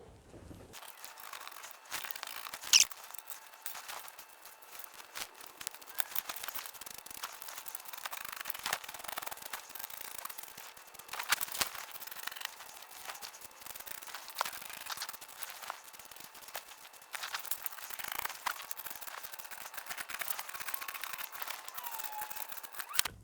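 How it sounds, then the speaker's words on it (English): A rotary cutter slices through fabric pieces for a Christmas stocking, giving a steady run of soft crinkling, crackling cuts and rustles close by, with occasional sharper clicks and no talking. "Now I'm going to cut them out with my rotary cutter."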